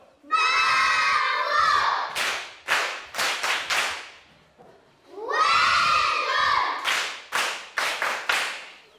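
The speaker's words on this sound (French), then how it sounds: "On applaudit fort." Schoolchildren in a lesson on invertebrates cheer, shout and clap loudly in two separate bursts, each opening with a surge of high voices followed by scattered sharp handclaps that fade out.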